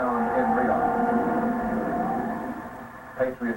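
An air raid siren wails in Riyadh, carried through a news broadcast: a sustained tone that holds steady and then fades, with a couple of brief louder bursts near the end.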